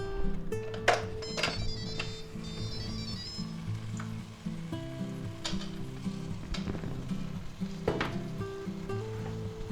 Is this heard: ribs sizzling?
yes